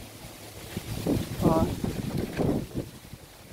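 Strong gusts of wind buffet a microphone outdoors among desert rose plants, rumbling in low surges while a voice speaks briefly over it.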